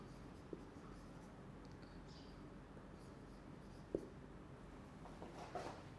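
Chalk or marker scratches faintly on a board during a chemistry lecture, soft scattered strokes with a couple of sharper taps over a quiet room hiss.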